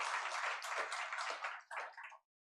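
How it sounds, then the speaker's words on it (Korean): A church congregation gives a short burst of clapping during a Sunday worship service, brisk and dense, easing off in the final moments before stopping abruptly. "우리 하나님께 영광의 박수 올려드리겠습니다."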